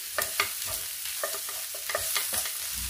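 Ingredients for white sauce pasta sautéing in a pan, a soft steady sizzle broken by repeated scraping and clinking stirring strokes, close and fairly quiet, with no talk.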